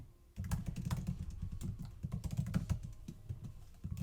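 Rapid typing on a computer keyboard during a coding session, with close, crisp keystroke clicks in a dense, uneven rhythm and no talking.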